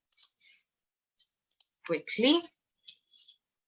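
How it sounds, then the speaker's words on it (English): Keys clatter on a computer keyboard in short, scattered bursts of crisp clicks, close and moderately quiet, with a brief spoken word breaking in partway through. "I'm just typing it in over here"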